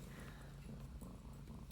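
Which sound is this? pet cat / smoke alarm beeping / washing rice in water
pet cat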